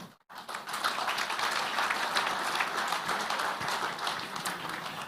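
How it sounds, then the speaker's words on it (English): A room full of guests at the Cricket Namibia annual awards gives winners a sustained round of applause, with dense, even clapping after a brief silent start. "Big round of applause, ladies and gentlemen."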